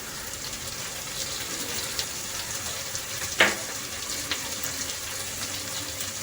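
Beans, carrot and a little pepper powder frying in a pan make a continuous soft sizzle, close and even, with one brief sharp knock partway through.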